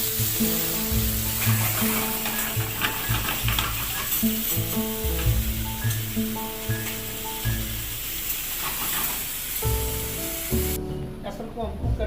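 Apple pieces with sugar and cinnamon powder cook in a pan with a continuous bright sizzle and frying hiss, while a voice talks over it throughout.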